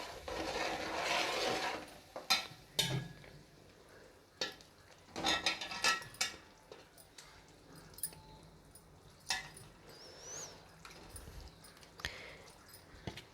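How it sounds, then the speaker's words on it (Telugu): A spoon stirs and knocks against a pot as fish pieces go into a tamarind stew for Nellore-style fish pulusu, giving intermittent clinks and scrapes, soft and close, with a brief sizzle at the start. "ఇప్పుడు కలబెట్టి చేప ముక్కలు వేసుకుందాం"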